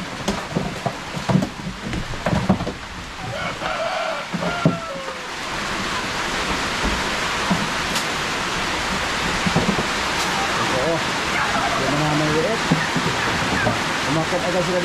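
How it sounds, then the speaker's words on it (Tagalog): Steady rain pours outdoors at a farm where pigs and goats are kept, a dense continuous hiss that stays loud throughout, with a few thumps and a voice briefly at the start. "na dito kasi may ulan."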